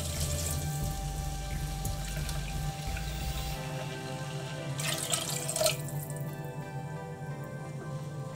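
Water pours into a pot for Malabar fish curry, a gurgling, splashing stream that runs for a few seconds, then trails off into faint drips and small splashes, close and without talk.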